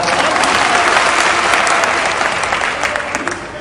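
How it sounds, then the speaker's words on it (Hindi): A crowd at an Aam Aadmi Party political rally breaks into loud, dense applause, a continuous roar of clapping that stays full and even throughout with little variation. "इनके लिए ताली बजा दो एक बार"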